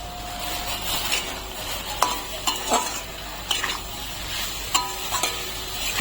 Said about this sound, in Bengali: একটু কষিয়ে নেবো আলু পটলটাকে